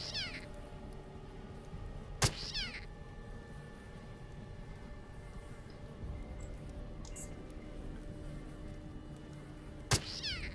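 Cats meow in the video game Underrail: a few drawn-out, whiny meows at the start, mid-clip and end, heard over a low ambient hum with a couple of sharp clicks.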